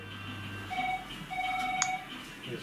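An Alcatel mobile phone gives faint electronic keypad beeps after OK is pressed, two short steady tones over quiet background hiss.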